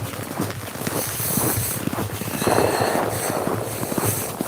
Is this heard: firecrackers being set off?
yes